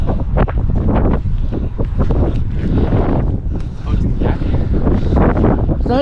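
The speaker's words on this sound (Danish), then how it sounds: "I kan tydeligt høre, hvis der er for meget blæs." Gusts of wind buffet the microphone with loud, low rumbling bursts that rise and fall irregularly for several seconds.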